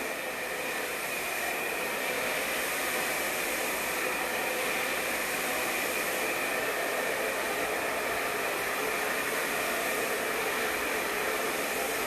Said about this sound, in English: recommend using a round brush when you blow dry these in